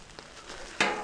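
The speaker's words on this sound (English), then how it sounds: "just let it get a little sizzle" Southwest chicken with green chilies and onions sizzling on a hot flat-top grill, a steady crackling hiss that swells into a louder burst near the end.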